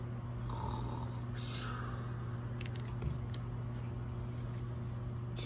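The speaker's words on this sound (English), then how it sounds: "Do you know what a snore sounds like?" Snoring rumbles low and steady for several seconds on its own, with no talking over it.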